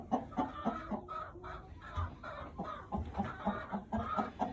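Several chickens cluck continuously in a busy, layered chorus, soft and close, with no talking.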